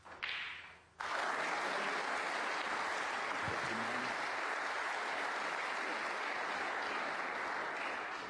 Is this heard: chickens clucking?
no